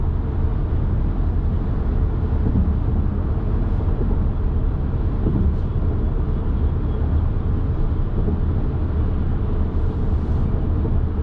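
Cabin noise inside a 2024 Toyota Grand Highlander Hybrid MAX at speed: steady low road and tyre rumble with a soft wind hiss, continuous and even, no talk.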